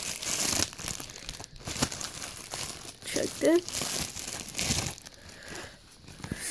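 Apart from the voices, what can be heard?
plastic bag crinkling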